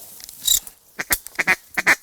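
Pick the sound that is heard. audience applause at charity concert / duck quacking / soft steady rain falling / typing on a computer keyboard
duck quacking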